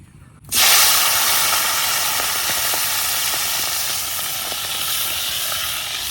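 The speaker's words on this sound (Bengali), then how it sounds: "মাছ এদিকে ভাজা হইতে হইতে আমি দুন্দুলগুলো কাটতে নিই।" Small tengra fish frying in oil with salt and turmeric in a village kitchen, a loud steady hiss and sizzle that starts abruptly and continues evenly throughout, with faint crackles, no talking.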